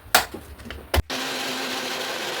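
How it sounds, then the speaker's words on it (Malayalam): Mixer grinder running on beetroot juice thinned with water: a couple of brief knocks, then a steady loud motor whir with rushing liquid that holds to the end, no voices. "ഇനി നമുക്കത് അതിലേക്ക് മിക്സി ജാറിലേക്ക് ഒഴിച്ചു കൊടുത്ത് ഒന്നും കൂടെ നമുക്കൊന്ന് അടിച്ചെടുക്കാം."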